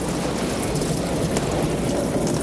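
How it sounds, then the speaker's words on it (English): Steady rain pours down in a dense, even hiss with faint patter on a window, continuous and close for the whole stretch. "I love the sound of rain."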